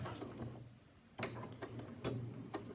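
A sewing machine stitching a coin purse runs in short mechanical bursts with soft rhythmic ticking and whirring, close by and moderately quiet.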